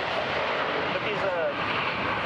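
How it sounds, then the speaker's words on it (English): Italian Air Force Frecce Tricolori jets make a formation flyby at an RAF Fairford air show, a steady broad engine roar filling the air while a commentator talks over it. "be prepared for the first flyby of the Frecce Tricolori"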